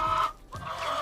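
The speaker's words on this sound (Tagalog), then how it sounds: "Shamo malalaking mga manok, mga higante ito sila" A large Shamo chicken clucking close by, a short throaty cluck followed by a brief pause and another low cluck.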